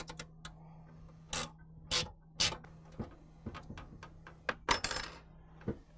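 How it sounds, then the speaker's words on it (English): Small metal clicks and clinks come as a flat washer, lock washer and nut are fitted onto a bolt on a cold air intake bracket for a 2016–2017 Chevrolet Camaro. The sounds are sparse, close and quiet over a faint hum. "put on a flat washer, a lock washer, and then a nut"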